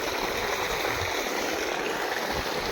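Irrigation water rushes along a channel into a wheat field, giving a close, steady, unbroken hiss of flowing water with no voices.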